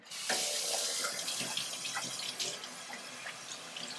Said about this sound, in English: my next trick to get these to really felt is to rinse them in cold water